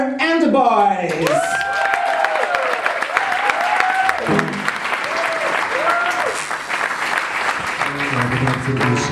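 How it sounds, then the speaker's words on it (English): Audience at a Sunday variety show erupting in loud applause with cheers and whoops, a continuous crowd of clapping hands while voices call out and shout over it. "clap now for Elmer and the boys!"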